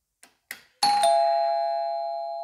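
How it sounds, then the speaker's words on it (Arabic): A smart doorbell chime rings after its button is pressed: two soft clicks, then a loud, clear two-tone electronic ding that rings out and slowly fades, heard alone. "مباشرة وصلني تنبيه ورن المساعد ورن الجرس."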